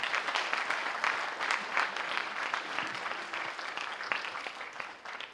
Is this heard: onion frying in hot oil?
no